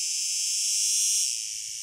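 An insect's call made by a tymbal organ in the abdomen, a continuous high, buzzing hiss held steady and close for about two seconds with no other sounds.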